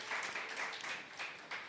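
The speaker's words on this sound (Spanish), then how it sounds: "Bueno, un aplauso para Él." Congregation at a Spanish-language deaf church service breaks into brief applause, a short burst of scattered claps at moderate volume.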